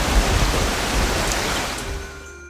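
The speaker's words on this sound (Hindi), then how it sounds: "एक बार गांव में प्रलयंकारी बारिश हुई।" Heavy torrential rain pours down on a cartoon village during a devastating storm, a dense, steady roar of downpour that stays loud and continuous for the whole stretch with no voices.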